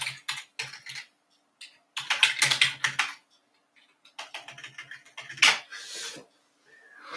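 Typing on a computer keyboard in quick clattering bursts of keystrokes separated by short silences, close and clear with no talking.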